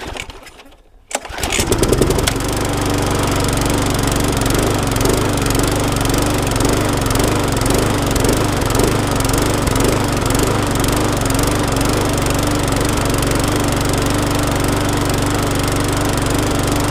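A lawn mower engine starts after a brief quiet moment and then runs continuously at a loud, steady, slightly uneven idle, close by, with no talking.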